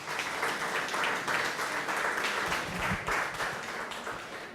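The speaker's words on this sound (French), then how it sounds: "On les applaudit tout le monde, s'il vous plaît." An audience applauds the staff at the official opening of new television studios, a dense, steady burst of clapping from many hands that stays loud and continuous throughout, with no talk over it.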